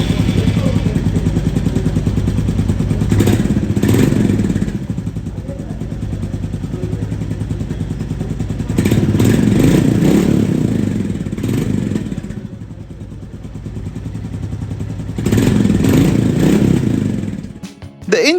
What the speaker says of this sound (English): We still have the same 349cc air-cooled engine producing 19 horsepower and 27 Nm of torque.